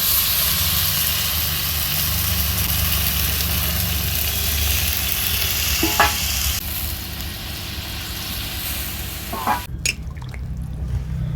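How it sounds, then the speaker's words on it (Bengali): Spiced vegetables sizzling loudly in a pan, a steady broad frying hiss that shifts and drops in level as water is poured in, ending with a few stirring clinks and gentle bubbling. "মশলা দিয়ে সবজিটা কষানো হয়ে গিয়েছে। এবার এটা আমি দিয়ে দেব জল।"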